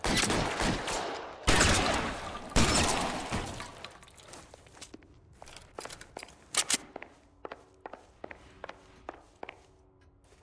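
Gunfire during a shootout in the L.A. Noire video game: several loud broadband bursts up front, then a scatter of sharp separate shots and clinks that gradually thin out and fade, with no talking.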